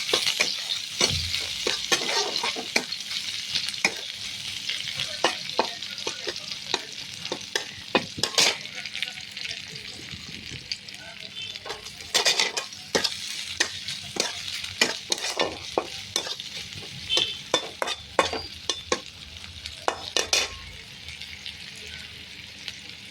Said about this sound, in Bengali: লাল লাল করে পিঁয়াজগুলো ভাজা হয়ে গেছে